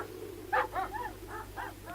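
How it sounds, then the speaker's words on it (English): Police dogs bark in a quick run of five or six sharp yelps and barks, fairly close, with no voices over them. "Police dogs."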